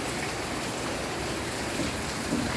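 Heavy rain pours steadily during a flood, a dense, even hiss of water with no breaks, fairly close and continuous throughout, with no voices over it.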